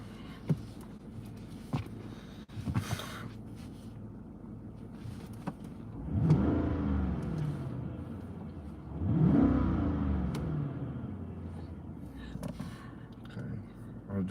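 A car engine revs up twice in long swelling bursts, nearby and fairly loud, with quieter idling and a few knocks between them and a voice talking at times.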